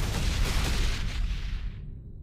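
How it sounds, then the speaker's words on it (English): Missile turrets fire on Banshees during a StarCraft II battle, a dense, continuous barrage of booming blasts and crackling bursts that sustains loudly before tapering off toward the end, with no voices. "those missile turrets are engaging us"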